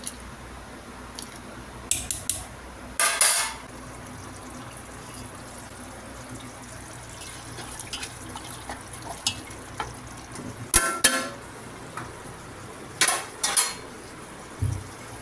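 Water drains off a pot of cooked rice being made into prawn biryani: a steady, soft rushing pour with a few sharper clinks of the pot rising above it, and no voices.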